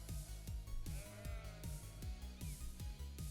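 Repeated bleating from sheep in the video game Cities: Skylines, several overlapping calls in quick succession over a steady low rhythmic background.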